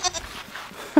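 Goats bleat on a farm, one short bleat at the start and another louder, close bleat at the end, with quieter rustling between.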